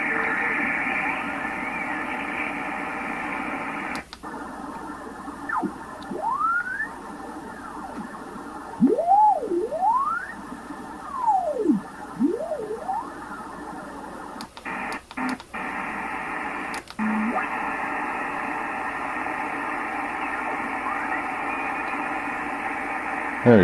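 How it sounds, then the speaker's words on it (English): Morse code tones sound through a shortwave radio receiver amid steady hiss and static, with sweeping whistles and clicks as the tuning shifts and brief gaps in the noise. "There's a little Morse code in there."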